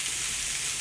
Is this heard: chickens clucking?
no